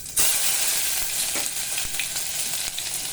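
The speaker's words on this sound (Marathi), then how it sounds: "आता हे तेल गरम झालंय, जिरे टाकले आणि आता मोहरी टाकायची." Cumin and mustard seeds crackle and sizzle in hot oil, a dense, close frying hiss with sharp pops scattered through it, no voices present.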